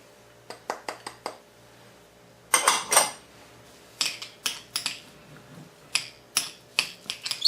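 Stems, chopped parsley and red onion are stirred in a bowl with a utensil, giving a series of sharp clinks and scrapes in irregular bursts, close and fairly loud, with no talking.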